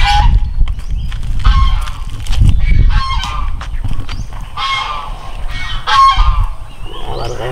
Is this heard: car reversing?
no